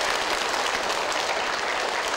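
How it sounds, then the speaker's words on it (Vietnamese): Steady, even applause from a studio audience at a Vietnamese TV game show, a dense uninterrupted wash of clapping with no voices over it. "Chúng ta cùng dành cho bạn Thái một tràng vỗ tay."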